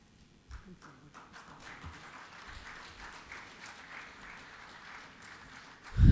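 A conference audience at a business event applauds panelists with scattered, fairly quiet clapping that stays steady, ending in a sudden loud thump.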